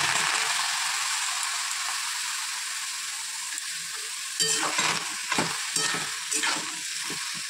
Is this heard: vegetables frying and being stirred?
yes